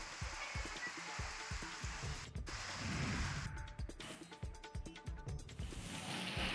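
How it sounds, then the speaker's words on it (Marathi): Heavy unseasonable rain lashes down with stormy wind, a dense steady hiss of pouring water over a faint spattering patter, with occasional crackling breaks, heard close and continuous. "वादळी वाऱ्यासह मुसळधार पावसाला सुरुवात झाली असल्याचं आपल्याला बघायला मिळतंय"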